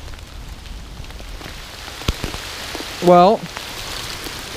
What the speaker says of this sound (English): monsoon season, anybody?